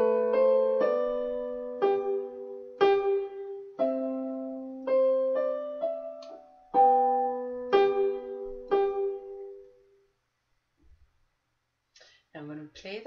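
Minuet in G played on piano with both hands, the first line heard as clear, evenly paced notes with sustained bass under the melody, ringing out and fading, then near silence with a brief faint sound at the end.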